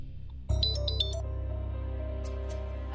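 A phone call placed on speakerphone during a Hindi TV serial family scene: a steady electronic ringback tone with faint beeping chirps repeats after a short pause, loud and close, with no talking over it.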